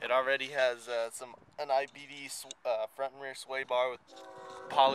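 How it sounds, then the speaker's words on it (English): A passing train sounds its horn at length in the background while someone talks steadily in the foreground, the horn's sustained tone coming through clearly toward the end. "Sorry about the train."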